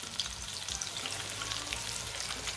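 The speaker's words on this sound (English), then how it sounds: "You should hear that sizzle and see those bubbles going." Panko-breaded lobster tail frying in hot oil, a steady close crackling sizzle with fine popping bubbles, heard alone without talk.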